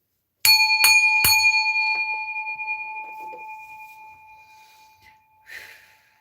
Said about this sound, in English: We're going to ring the bell, right?